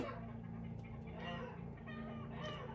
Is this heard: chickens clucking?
yes